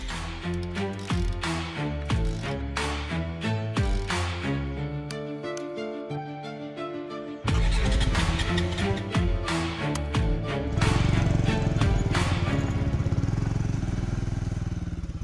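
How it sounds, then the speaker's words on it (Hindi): A motorbike starts up and rides off, its engine a steady mechanical drone that grows louder partway through, under a dense layer of music. "ये स्टार्ट क्यों नहीं हो रही है? अर्जुन चलो। हाँ बस चल रहा।"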